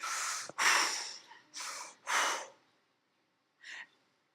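A person standing and breathing deeply, several loud airy inhales and exhales in uneven bursts, then a pause and one fainter breath, with no talking.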